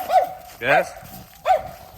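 A small, nervous dog yips and whimpers in three short, high-pitched bursts close by, with a person's voice urging it along between the cries.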